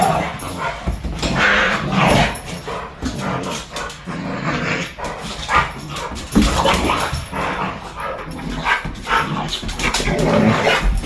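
Two dogs play roughly close by, trading growls, whimpers and occasional barks in uneven bursts over about eleven seconds.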